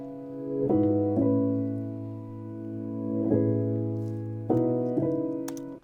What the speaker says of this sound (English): And some reverse piano things,